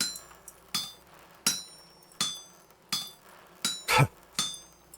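Repeated hammer strikes in the Vintage Story survival game, seven sharp metallic clinks at roughly even intervals, ringing and bright, with no talk.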